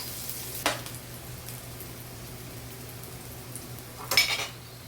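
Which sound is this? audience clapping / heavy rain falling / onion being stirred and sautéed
onion being stirred and sautéed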